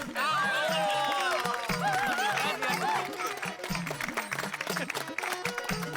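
Enthusiastic audience clapping for a housing society secretary, mixed with crowd noise and music, fairly loud throughout.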